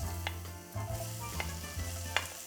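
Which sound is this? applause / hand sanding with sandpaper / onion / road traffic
onion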